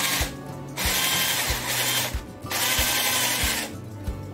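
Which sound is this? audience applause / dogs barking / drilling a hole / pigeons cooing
drilling a hole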